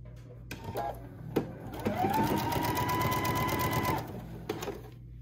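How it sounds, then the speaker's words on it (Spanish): A sewing machine stitches along the edge of fabric held with tape while sewing English and French seams, a steady close whirring run of about two seconds between short clicks and handling noises. "voy a empezar a coser la orilla"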